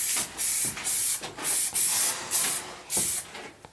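An aerosol can sprays paint onto a pumpkin-shaped table for camouflage in repeated close, loud hissing bursts of about half a second each, separated by short pauses, with no voices.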